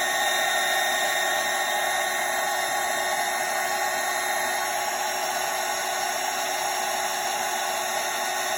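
A heat tool blows a steady, even hiss while melting a thick layer of embossing powder on a card, holding a constant level throughout with no pauses.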